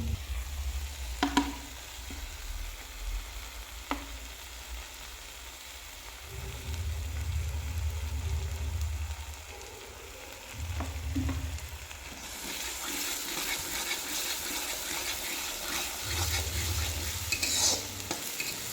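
In a pan of tomato, fried paneer and potato, stirring scrapes and clatters over a low sizzle, then fresh oil makes the frying hiss grow brighter and louder toward the end, with a low hum at times.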